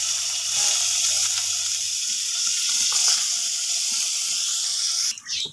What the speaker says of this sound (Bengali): প্রথমে আমি চর্বিগুলো দিয়ে তেল বের করে নিব।